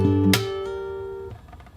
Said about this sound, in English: So it's a hammer on from 7 to 8.